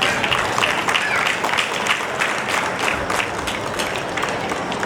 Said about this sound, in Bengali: আমরা হাততালি দিয়ে ওনাকে স্বাগত জানাই।